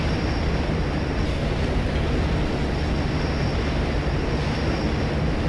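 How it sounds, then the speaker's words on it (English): Train passing in the shooter Fear 2, a loud, steady broadband roar with a sustained whine and rumble that holds unchanged throughout, with no talk over it. "This is a train."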